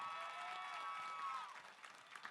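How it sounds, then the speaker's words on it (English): Graduates and guests applauding at the Central State University 2022 commencement ceremony, a broad steady wash of clapping from a large crowd, faint and distant, easing slightly toward the end. "Give yourselves a round of applause here today."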